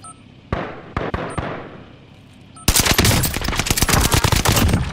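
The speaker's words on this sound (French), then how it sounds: "Je subis des tirs." MG42 machine gun in Call of Duty Warzone: a few isolated sharp shots, then a sustained loud burst of rapid automatic fire, close and dense, with no talk.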